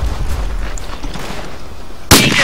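A burst of gunfire erupts abruptly near the end in the World War I shooter Verdun, loud and close, after a stretch of quieter battlefield ambience.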